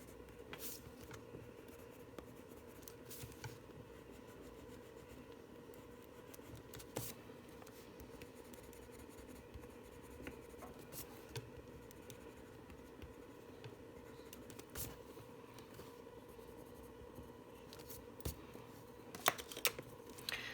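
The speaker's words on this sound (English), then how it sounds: "we have our white pencil to blur out those white areas, make them look a bit softer, a bit more natural" A white coloured pencil blends and softens areas of a colouring page, giving faint, continuous scratchy strokes on paper with a few sharper ticks, quiet and close with no talking.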